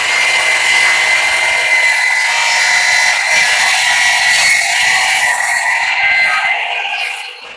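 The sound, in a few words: chop saw miter cutting oak board corners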